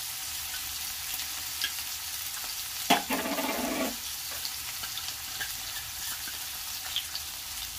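Spices fry and sizzle in a pan with a soft continuous crackle, broken by a louder burst of sizzling and stirring for about a second midway.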